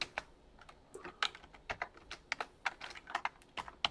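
Keys clatter on a computer keyboard in quick, uneven bursts of soft clicks, close and fairly quiet, with no talking over them.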